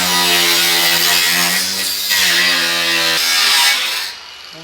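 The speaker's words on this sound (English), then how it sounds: "Just use this grinder here." An angle grinder cuts through a metal part with a loud, sustained whine, the pitch dipping briefly under load twice before the cut finishes and the motor winds down.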